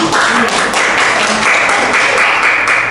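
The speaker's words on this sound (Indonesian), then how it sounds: "Kita kasih aplaus dulu untuk Ewi." An audience at a scientific paper presentation claps steadily, a dense wash of applause lasting the whole time with no break.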